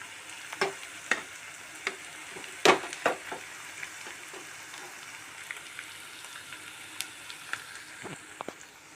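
Turmeric and ginger-garlic paste fries in a pan with a soft, continuous sizzle, punctuated by repeated clicking and scraping strokes of a spoon stirring it.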